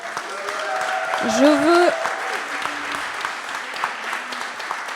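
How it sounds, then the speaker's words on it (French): An audience at a Paris demo day for a part-time startup batch applauds the teams, a dense wash of clapping running throughout while a voice speaks briefly over it. "je vous repropose de vous faire et de leur faire un tonnerre d'applaudissements"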